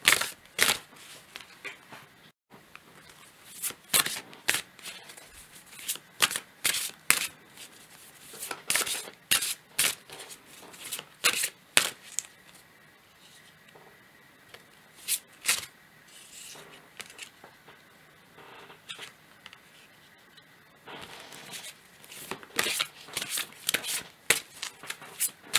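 Spirit Animals Oracle cards riffled and shuffled by hand in a tarot-style reading, a long run of crisp papery flutters and slaps coming in irregular bursts, close and fairly quiet with no talking.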